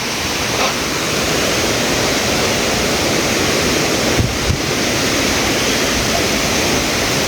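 Ranao Falls roars as a broad, constant wash of falling water, loud and close, with a couple of faint bumps partway through and no speech.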